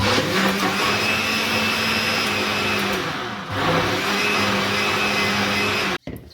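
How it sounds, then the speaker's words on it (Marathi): A kitchen mixer grinder blends raw mango pulp in a loud continuous whirring roar, dipping briefly midway as the motor pauses, then running on before cutting off abruptly near the end. "अशा प्रकारे मी कच्च्या कैरीचा गर टाकून घेतलेला आहे मिक्स करण्यासाठी पूर्ण"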